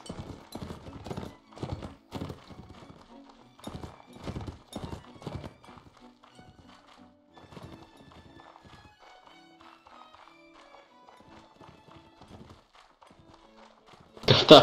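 Hooves clip-clop in quick irregular bursts in a lagging online line-battle video game, with a horse snorting and faint game-like sounds, ending in a sudden loud burst.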